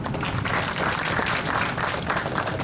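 An audience at a business school orientation session applauds, a dense, steady patter of clapping hands filling the room for a couple of seconds.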